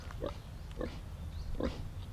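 Pig grunting during a washing in the Philippines, three short nasal oinks spaced about half a second apart over quiet background, fairly close.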